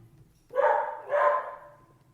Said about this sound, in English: I would be robbed so many times if I didn't have my dog barking at all the potential intruders.